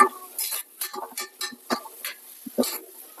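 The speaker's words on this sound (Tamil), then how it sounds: "வெங்காயத்தை நல்லா வதக்கி விட்டுப்போம்." Onions are stirred and sautéed in a pan in a home kitchen, with a spoon scraping and clinking against the metal in an irregular rhythm over a soft sizzle, close by and with no voices.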